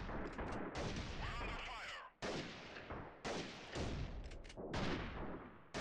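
Rapid gunfire in the guerrilla warfare shooter Freeman: Guerrilla Warfare, a dense barrage of loud, close blasts with shotgun-like booms, broken by one short gap and then resuming.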